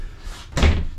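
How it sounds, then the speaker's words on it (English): The door of a 2022 Sandpiper fifth wheel RV is moved aside, a quiet shuffle and then one sharp, close thump as it swings into place. "Let me get this door out of the way here."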